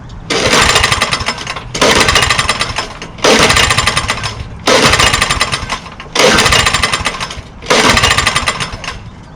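A lawn mower engine roars in six loud, evenly spaced bursts of about a second each, close up, each one cutting out before the next, with no talking.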